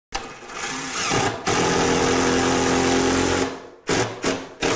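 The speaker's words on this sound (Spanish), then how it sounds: "el sonido de cuando se clava un tornillo en la madera" A power drill drives a screw into wood during a DIY kitchen renovation, a loud steady whir lasting about three seconds, then a few short bursts of the motor.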